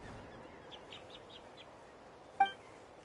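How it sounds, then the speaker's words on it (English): Cuckoo soar bird call in the game Genshin Impact, a short series of faint, high chirps in quick succession followed by a brief sharper ringing note, set against a quiet ambient background. "that's a cuckoo soar. They fly high and fast, and they're always full of energy"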